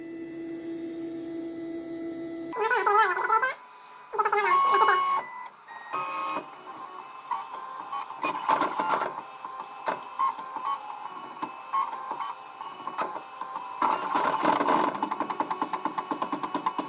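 A 3D printer runs and prints with a heated extruder, working with Cura software: a steady mechanical hum with shifting whirring motor tones and pitch sweeps as the head moves, continuous and close, without talking.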